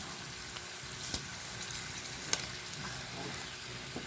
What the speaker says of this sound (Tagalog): Tutunawin nyo lang siya dyan sa mantika.